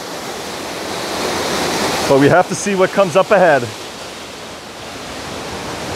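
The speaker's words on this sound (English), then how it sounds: "we're so close to this beautiful waterfall" Waterfall near a cave along a steep trail, a steady broadband rush of falling water filling the background at moderate level, with someone talking briefly over it.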